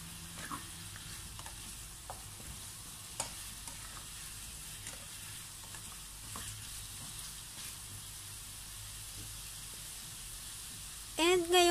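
Softened pumpkin is stirred in a cooking pan with a soft frying sizzle underneath, quiet and close, with a few light scrapes and a short loud burst at the very end.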